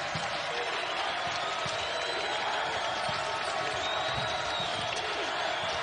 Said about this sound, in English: Crowd growing restless.